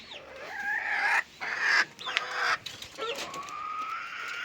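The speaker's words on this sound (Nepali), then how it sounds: "लुइँचे जातको कुखुरा पनि छ।" Luinche breed chickens cluck and squawk close by in several short bursts, with a rooster-like call among them and a steady background hiss.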